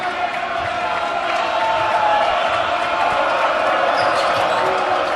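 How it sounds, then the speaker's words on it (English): Steady, loud crowd roar fills a high school gym during a La Salle versus Bishop McDevitt basketball game, holding unbroken throughout. "Listen to this crowd rock here tonight"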